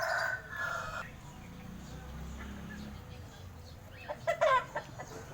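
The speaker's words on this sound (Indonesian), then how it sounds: "ayam putih" A white rooster crows and clucks close by, with a drawn-out call at the start and a short burst of clucks near the end over low background noise.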